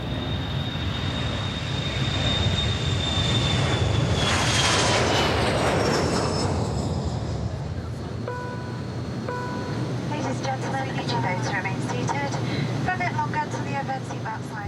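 An airliner with CFM56 jet engines roars at high thrust for the whole span, a loud steady broadband rumble with a rising whine that swells midway, while airport sounds and talk mix in underneath.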